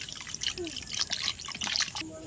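Dalia and dal being washed by hand in water, quick splashing and dripping swishes in bursts, close and fairly faint, with a voice speaking alongside.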